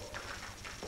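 Horses' hooves clip-clopping in a stage production of Molière's Dom Juan, a quick run of close, rhythmic hoof knocks under a faint airy background, with no talking.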